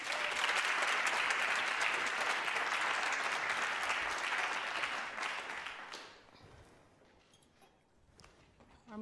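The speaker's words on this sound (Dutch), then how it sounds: "Geef haar graag een heel warm applaus." An audience at a public lecture evening gives a warm round of applause, dense clapping for about six seconds that thins out and fades into scattered claps.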